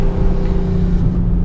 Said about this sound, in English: Plenty of engine noise for you guys to enjoy